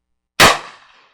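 A single sharp, loud shot from a Rossi Model R92 lever-action carbine in .357 Magnum/.38 Special with a 20-inch barrel, after a brief silence, with a short decaying tail and no voices.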